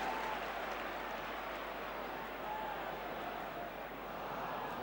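A football crowd at a 1980 Spurs match applauds and murmurs in a steady, distant wash of noise with no clear voices on top.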